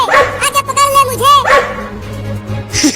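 Two dogs barking in loud, repeated yapping bursts close by, some barks drawn out with a whine, while a person talks over them.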